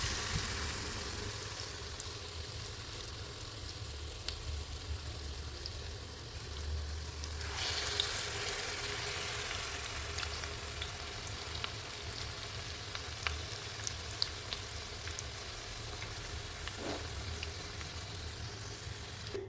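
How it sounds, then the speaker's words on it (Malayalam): Stuffed pumpkin flower fritters deep frying in hot oil, a constant close hiss that swells louder for a few seconds as more fritters go in, with light crackles throughout. "ബാക്കിയുള്ളതും കൂടി ഇട്ട് വറുക്കാം"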